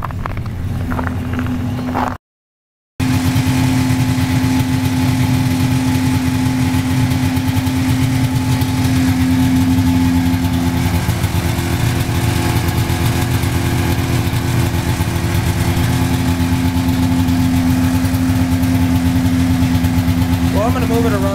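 A car engine running after a cold start, a loud, steady low drone with a short break near the beginning, continuing evenly as the car is moved, with some talking mixed in.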